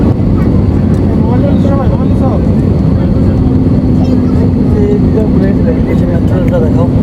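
Airliner cabin noise during the descent into Dhaka on a flight from Paro, Bhutan: a steady, loud, low rumble fills the whole clip while people talk over it.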